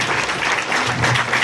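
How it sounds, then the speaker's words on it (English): Dense, steady audience applause for the performers of a song at a 90th birthday celebration for the Dalai Lama, many hands clapping loudly throughout with no speech. "please give them another round of applause"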